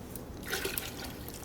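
Turkey broth and water pour into a pot for potato soup, a soft close liquid splash and drip that swells briefly in the middle, with no talking.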